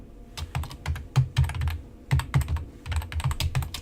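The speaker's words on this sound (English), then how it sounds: "when I type text into" Rapid clicking keystrokes on a computer keyboard, close and fairly quiet, in quick irregular bursts with short pauses between words.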